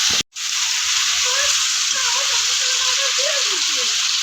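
Turmeric and chili powder masala frying in a pan with continuous sizzling and stirring, steady and close, after a brief gap at the start.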